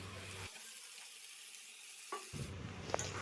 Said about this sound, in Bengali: মাংসটা দিয়ে আরও কিছুক্ষণ ধরে ভাজবো কারণ যতক্ষণ মাংসটা ভাজা না হয় আর তারপরে এদিকে আলুগুলো ভাজা রয়েছে সেগুলো দিয়ে দিলাম